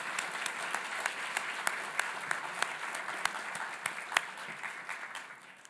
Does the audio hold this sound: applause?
yes